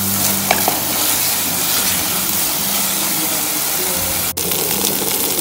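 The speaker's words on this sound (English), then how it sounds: "I'll now add my carrots, and I'll let them simmer for about a minute." Carrots cooking in a salted pan, a dense, constant sizzle and bubbling close by, with a brief dip near the end and no talk.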